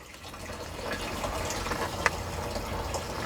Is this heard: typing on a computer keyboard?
no